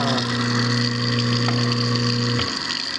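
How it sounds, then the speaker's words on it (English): A half horsepower garbage disposal runs with a loud, steady motor hum and whine, then cuts off near the end as the drone quickly winds down. No one speaks. "It's a 1/2 horsepower garbage disposal."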